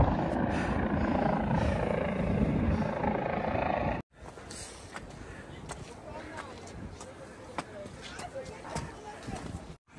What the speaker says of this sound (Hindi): उधर हेलीकॉप्टर आए जा रहे,